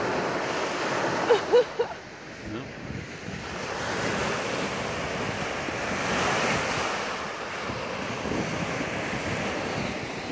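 Winter sea waves wash onto a beach on the Olympic Riviera in a continuous surging roar, with heavy wind buffeting the microphone and a few brief bumps early on.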